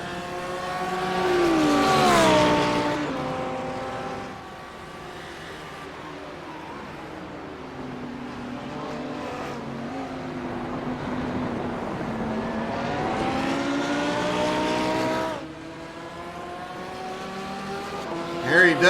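GT3 race cars, a BMW with an Audi right behind, racing at the Rudskogen circuit. Engines rise and fall with gear changes as the cars pass, and a commentator talks over them.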